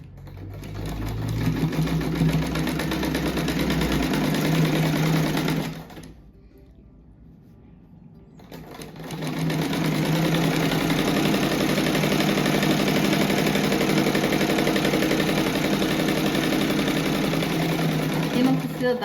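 Sewing machine stitching fabric scraps together for an egg-shaped rag rug, running in steady fast bursts with a brief pause midway before resuming; a voice may talk faintly underneath.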